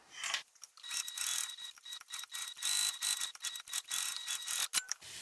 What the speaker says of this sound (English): I just have to baste from the side across the bottom and up